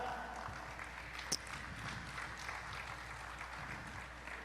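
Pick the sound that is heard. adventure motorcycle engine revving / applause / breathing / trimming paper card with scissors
applause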